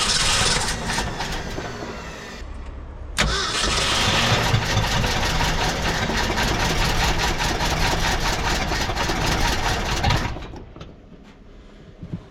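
A 1966 Ford F-250 factory four-wheel-drive truck engine runs steadily and loudly for several seconds with a rough, rumbling idle, then cuts out and drops to quiet near the end.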